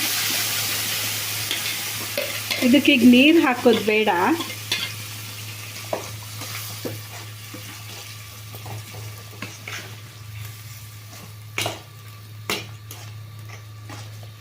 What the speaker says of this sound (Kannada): ಈಗ ಇದನ್ನು ನಾನು ಬಿಡ್ತಾ ಇದ್ದೀನಿ ಹಾಗೇ ಎಣ್ಣೆನಲ್ಲಿ ಫ್ರೈ ಆಗೋಕ್ಕೆ